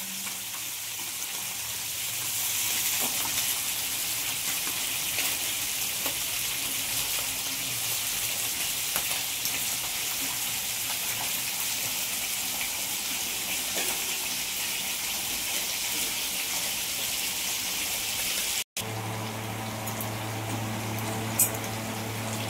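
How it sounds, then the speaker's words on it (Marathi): Mackerel (bangda) fry steadily in a pan at home with a continuous close sizzle, a brief cut near the end followed by a louder, harsher frying hiss. "बांगडे पण छान फ्राय झालेत बघा एका बाजूनी मस्त झालेत बघा"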